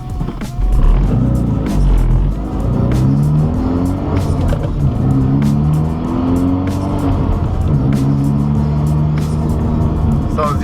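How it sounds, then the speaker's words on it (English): A Hyundai Veloster Turbo with a clutch modification accelerates hard through the gears: a loud engine note climbs repeatedly and drops at each shift, with tire noise and a voice in the background. "He's shifting right now. See that little lag?"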